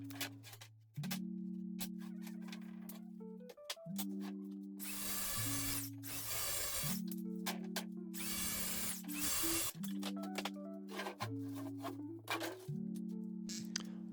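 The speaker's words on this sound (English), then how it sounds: "Time to cut the sheet of plywood." A power tool cuts through a sheet of plywood on a homemade table saw workbench, with the motor whining in repeated bursts separated by short pauses and several loud, harsh cutting passes, fairly close and without speech.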